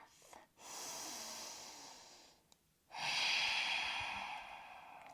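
Slow, deep breaths during a yoga flow: a long airy inhale, a pause, then a fuller, louder exhale, close and unaccompanied by speech.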